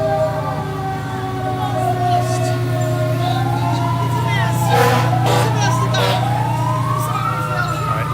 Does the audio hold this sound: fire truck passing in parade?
yes